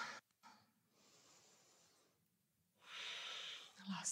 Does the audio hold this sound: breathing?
yes